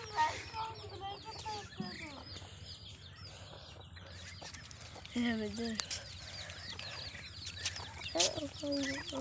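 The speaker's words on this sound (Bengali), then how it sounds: "দেখুন হাঁস" Ducks quacking and clucking in a lively yard among chickens, with bird calls scattered throughout and loud bursts near the middle and end, while people talk in the background.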